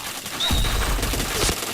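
Rapid bursts of gunfire ring out in the shooter game Point Blank, dense fusillade-like shots over a short stretch, loud and close with game effects layered in.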